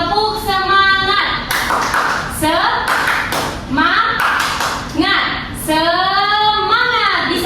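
A classroom claps out a rhythmic spirit clap, sharp patterned hand claps striking in quick groups between loud chanted voices.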